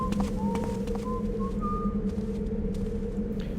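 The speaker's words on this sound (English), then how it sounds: "The whistling and humming guards and mumbling." A guard in the stealth video game Thief: The Dark Project whistles a slow, wavering tune of a few sustained notes, moderately clear above a steady low game ambience.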